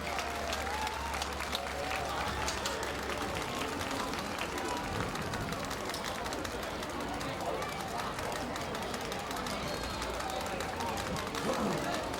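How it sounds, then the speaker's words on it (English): A crowd at a high school football game in a stadium claps for a player, with a steady mix of applause, chatter and general crowd noise, heard at a distance under a persistent background hum. "Give Jimmy a big round of applause at the 50."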